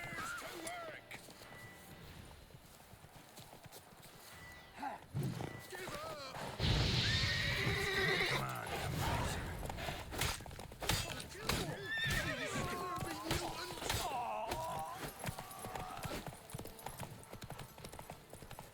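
A horse in the video game Witcher 3 gallops, its clip-clop hoofbeats running beneath a loud neigh and whinny, mixed with game music, effects and a voice speaking over the action.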